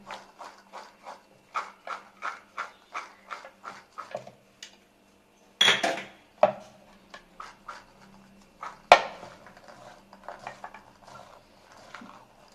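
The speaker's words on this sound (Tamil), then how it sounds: "பிளாக் கலர் சென்னா இருக்குல்ல, அதை எடுத்து டுகெதராக மிக்ஸ் பண்ணுங்க." Black chana salad gets mixed with its dressing in a bowl, giving a quick series of rhythmic soft clacks and scrapes of a spoon, then a few louder bursts of tossing, close and without talking.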